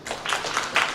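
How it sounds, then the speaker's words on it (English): An audience at a fifth-anniversary celebration of the Osun Descendants Union Ireland claps in a brief burst of applause, with moderate, uneven bursts of clapping heard from a short distance. "A round of applause to the Osun Descendants Union Island."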